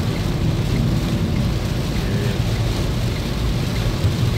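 Heavy rain pours onto a car driving slowly along the Indore–Ahmedabad road between Godhra and Dahod, a dense, steady roaring wash that stays loud and unbroken throughout, with no voices.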